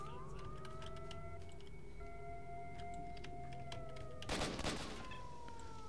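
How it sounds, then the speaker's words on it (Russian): Gunfire in the S.T.A.L.K.E.R. Shadow of Chernobyl video game sounds as scattered faint cracks, then a louder, dense burst of shots, over sustained siren-like electronic tones. "Это неприятно, когда по тебе стреляют."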